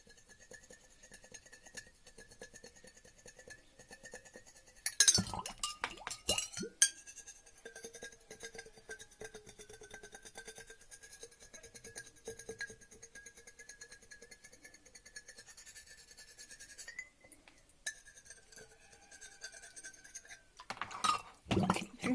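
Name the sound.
back of a knife scraping a label off a glass jar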